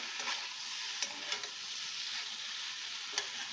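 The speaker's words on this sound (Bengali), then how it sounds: "নুন দিয়ে এটাকে ভালো করে একটু এপিট ওপিট করে এর সঙ্গেও একটু কষিয়ে নেবো।" Fish pieces sautéing with salt in a pan for a light Bengali bata fish curry, a steady soft sizzle with a few faint clicks of stirring, close and alone without talk.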